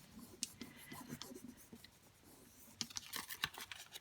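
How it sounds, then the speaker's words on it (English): A transfer sticker is rubbed onto a scrapbook layout by hand, giving faint, close scratchy strokes in short irregular bursts with soft background noise. "And then you rub,"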